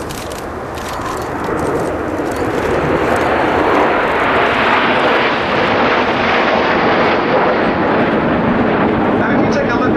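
Red Arrows RAF jets fly an Apollo twister formation overhead, a loud broadband engine roar swelling after the first second and holding steady, with a commentator talking over it.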